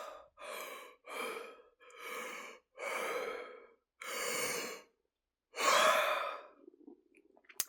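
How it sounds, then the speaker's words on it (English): A run of six short, breathy half yawns, each a soft open exhale separated by brief pauses, close and quiet with no talking. "I'll have little baby yawns,"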